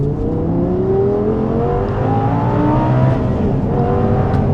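An Audi R8 GT sports car engine revs loudly nearby, its pitch rising and falling in a throaty, sustained roar.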